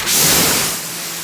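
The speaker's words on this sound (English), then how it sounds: "Just using the wand right now to break up the debris on the car." A pressure washer wand sprays water onto a car's exterior during a basic detail, giving a close, loud hiss of spray that eases slightly toward the end of the brief burst.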